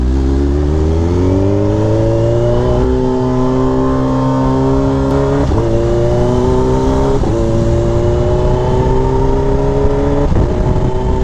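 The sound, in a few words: Kawasaki H2 motorcycle riding on the road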